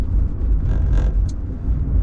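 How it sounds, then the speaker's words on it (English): Inside a 1979 Mercedes-Benz 450 SEL 6.9, the sunroof makes a loud, continuous low rushing rumble that fills the cabin, with a brief faint higher squeak near the middle and no talking. "that noise you hear, by the way, is the sunroof."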